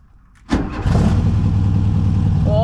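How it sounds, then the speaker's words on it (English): A 1974 VW Beetle, abandoned for 30 years, cranks briefly and catches, its engine jumping to a loud, steady idle that keeps running close by, a faint squeal rising near the end. "Let's get this car started back up and take it for a drive."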